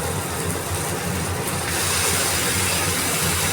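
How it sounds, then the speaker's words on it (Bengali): Marinated meat sizzles loudly in a pan with fried onions, a dense, steady crackling hiss that continues without pause, with no talking. "তো এবার এই ম্যারিনেট করা মাংসটা এর মধ্যে দিয়ে দিলাম।"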